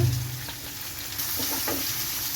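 Sliced onions and green chillies hitting hot oil for mutton dum biryani, a brief louder burst at first then a steady bright sizzle with light stirring, close by and without speech.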